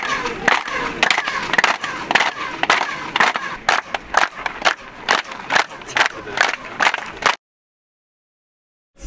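Rhythmic hand claps in front of a Mayan temple near Cancún, echoing back in a chirping way that mimics the call of a quetzal bird; a steady run of sharp, close claps with voices mixed in, then silence.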